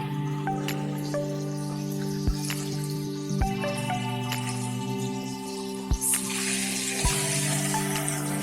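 Chicken drumsticks deep-frying in hot oil in a home kitchen, a steady dense sizzle and crackle with scattered popping bursts and a few sharp clicks throughout.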